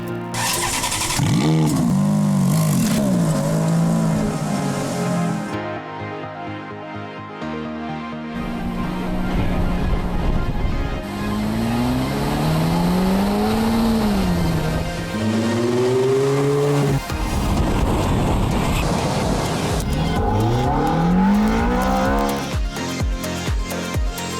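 A Ferrari engine on a drive, loud and close, rising and falling through repeated revs and gear changes with a throaty roar and brief pauses between pulls.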